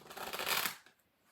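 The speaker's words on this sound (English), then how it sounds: "one day I'll learn how to shuffle" Tarot cards are shuffled up close in one short, soft papery riffle lasting under a second, then quiet.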